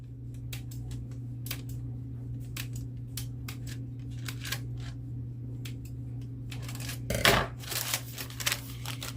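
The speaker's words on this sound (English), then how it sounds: "take your scissors and not going all the way down, but 3/4, snip it" Cooking scissors snip through sweet condensed milk bread dough in a home kitchen, giving a run of soft, quick clicks over a steady low hum, with a louder cluster of cuts near the end.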